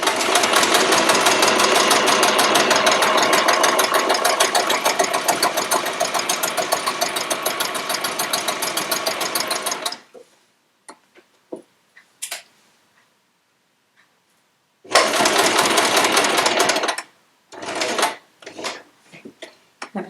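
A domestic sewing machine runs steadily for about ten seconds stitching a quilt seam, a fast, even mechanical whir. It stops, a few small clicks follow, and then it resumes briefly in short bursts.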